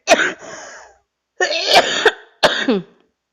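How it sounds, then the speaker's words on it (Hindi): Three separate dry, raspy coughs, close and fairly loud, with short pauses between them and no speech. "थोड़ा सा इरिटेशन हो रही है गले में, सूखी खांसी सी हो गई है"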